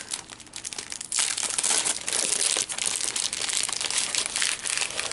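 Paper crinkles and crackles steadily while craft supplies from an online haul are unpacked, a close, busy rustle that grows louder after the first second and continues without speech.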